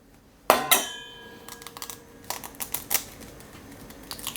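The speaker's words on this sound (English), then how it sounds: "we're gonna split some eggs for the egg yolks to use for our creme brulee" Eggs are cracked and separated for crème brûlée yolks in a kitchen: a sharp shell crack against a bowl, then light clinks and taps of shell and dishware, close and otherwise quiet.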